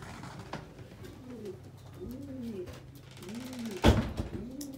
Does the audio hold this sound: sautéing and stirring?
no